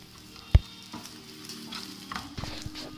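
Chicken fry with curry leaves being mixed in a pan, a sharp utensil knock near the start, then soft scraping and sizzling, close by.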